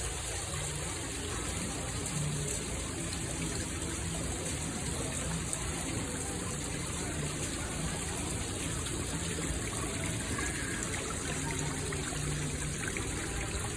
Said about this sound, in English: we got this nice little waterfall grotto back there